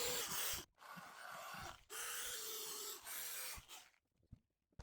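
An aluminum truck wheel being sanded with a 240-grit abrasive disc, a close, loud rasping rub in three long passes separated by brief pauses, ending in quieter scuffing.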